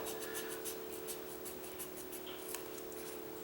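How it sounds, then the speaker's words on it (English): Carpet scissors snipping through carpet trim indoors, a run of quick, close, crisp cuts in a steady rhythm over a constant electrical hum. "these carpet scissors work so good on this"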